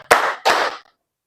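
Students in a science class clap in unison on a counted cue, two sharp, loud bursts of hands striking together in quick succession, then silence.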